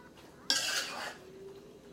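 Spoon swirling cooked macaroni coated in mayonnaise around a bowl for Haitian macaroni, a brief scraping, clinking stir up close, followed by quieter rustling; no talking.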